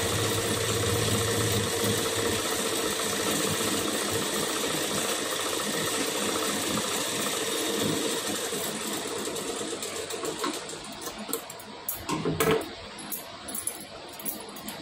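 A sewing machine runs steadily while stitching a blouse, a continuous close whirring hum for most of the stretch, then slowing and breaking into a few clicks and clatters toward the end.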